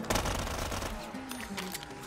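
A Scorpion submachine gun firing in Black Ops 3 custom zombies, a short rapid automatic burst at the start that tails off quickly into fainter game noise.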